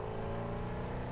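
An off-road vehicle engine driving in Satisfactory, a continuous, even droning hum with steady tonal whine, moderately quiet and with no talk over it.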